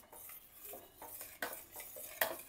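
Spoon or ladle scraping and clinking in a thick-bottomed cooker pan while a sweet mixture of coconut is stirred, a steady series of close metallic knocks and scrapes with a few sharper clanks.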